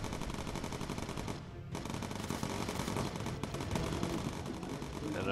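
Machine guns hammer in a dense, continuous stream aboard a bomber in the game Bomber Crew, loud and close over a constant engine roar, with only a brief break in the barrage.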